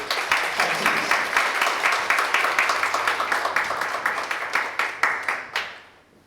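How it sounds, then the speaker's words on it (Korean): Church congregation applauding to welcome a pastor (Hong) to the pulpit: sustained dense clapping from a crowd, loud and steady for about five seconds before quickly dying away. "여러분 뜨거운 박수로 환영해 주시기 바랍니다"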